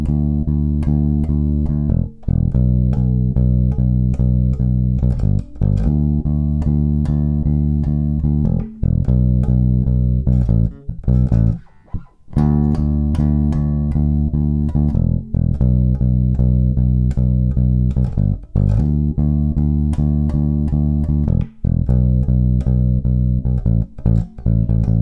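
A bass guitar plays the chorus of a song, steady sustained low notes changing every couple of seconds in a consistent progression, loud and clear with no talk.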